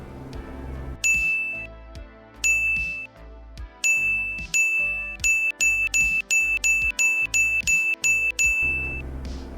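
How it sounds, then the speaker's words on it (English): A truck's bell dings repeatedly in American Truck Simulator, sharp metallic strikes in irregular bursts that quicken into a rapid, evenly spaced run over a low engine drone. "I may have just worn out my bell."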